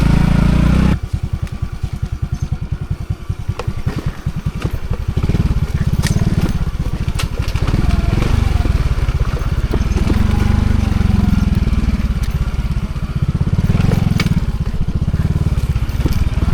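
A motorcycle engine putters loudly up close, rising into a steady rough drone as the bike rides mountain backroads near Baguio City, with buffeting wind noise.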